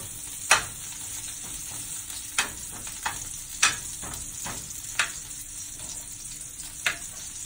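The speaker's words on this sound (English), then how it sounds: "Stirring." A spoon stirs marinated vegetables and quinoa in a pan over a steady sizzle, with a handful of sharp scrapes and clinks against the pan spaced irregularly, close and fairly quiet.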